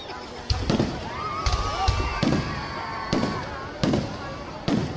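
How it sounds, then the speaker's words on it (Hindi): Fireworks burst over a Ravana effigy burning in Jaipur, with repeated sharp bangs and whistling rockets at moderate distance over steady crowd murmur and voices. "बहुत ही शानदार आतिशबाजी होते हुए"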